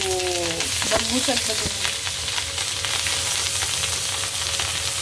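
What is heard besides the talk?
fish sizzling while frying in hot oil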